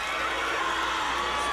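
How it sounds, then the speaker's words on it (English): A large crowd screams and shouts continuously for Olympic gold medalist Kishon Walcott, a dense, loud, sustained roar of voices with no pauses. "the screams were deafening"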